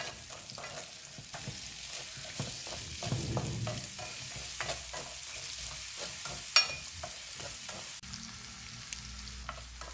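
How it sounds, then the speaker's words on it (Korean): Sliced sweet pumpkin and butter cook in a frying pan with sugar, a quiet, soft sizzle punctuated by spatula stirring and scraping and an occasional small knock, no voices. "이제 후라이팬에 썰어놓은 단호박 100g과 버터 10g을 넣고 버터가 어느 정도 녹았으면 설탕 1티스푼을 넣고 잘 졸여주세요"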